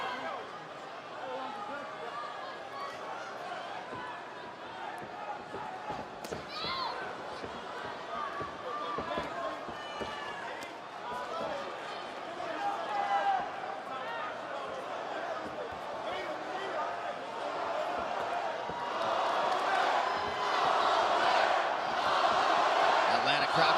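Arena crowd in Atlanta roaring and cheering through the final round of a UFC 269 bout between Dustin Poirier and Max Holloway, a dense steady swell that builds louder toward the end, with a commentator talking over it.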